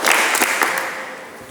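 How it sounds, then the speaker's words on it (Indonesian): Applause from a classroom audience of automotive students, a dense wash of many hands clapping that starts loud and gradually fades over a second and a half, with no voices over it. "Tepuk tangan dulu untuk kita semuanya."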